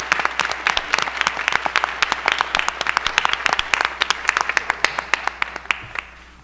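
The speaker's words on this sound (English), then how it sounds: "Let's hear one more round of applause for our robotics team." A round of applause for a school robotics team at a board of education meeting, dense clapping from a room of people lasting several seconds before fading out at the end.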